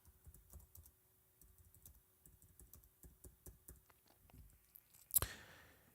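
Quiet, close clicking keystrokes on a computer keyboard come in irregular bursts while text is typed into a WordPress form field, ending with a brief louder thump.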